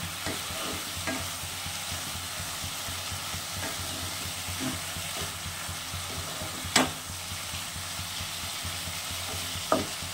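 Flat beans coated in poppy seed paste are stir-fried in oil, giving a continuous soft sizzle with rhythmic scraping strokes and two sharper knocks of the spatula on the pan.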